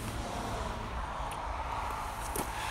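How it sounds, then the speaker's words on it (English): Traffic on a highway or roadway near Mount Rainier at sunset makes a continuous, distant wash of passing cars with no clear breaks. "you can probably hear the traffic on the highway or the roadway behind me"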